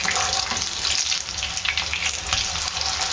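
Chicken chapli kabab fries in a pan with a dense, steady sizzle and crackle of hot oil, loud and close, lasting the whole stretch with no talk.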